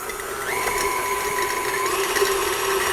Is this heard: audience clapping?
no